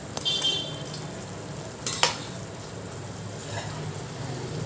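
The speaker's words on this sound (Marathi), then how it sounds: "जे आपण अंडे फ्राय करून घेतले होते ते अंडी त्यात टाकून घेऊया" Fried eggs dropped into hot masala in a pan, giving a steady close sizzle with a couple of brief splashing bursts as each egg goes in.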